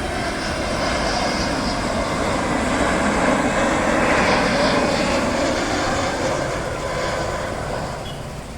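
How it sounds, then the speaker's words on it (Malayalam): An airplane at Karipur airport in Kondotty, heard from a viewpoint near the runway, gives a loud, sustained jet roar that swells toward the middle and slowly eases off, with no talk. "ഇവിടെ എത്തിയപ്പോൾ തന്നെ ഒരു ഫ്ലൈറ്റ് ഇറങ്ങി കയറി."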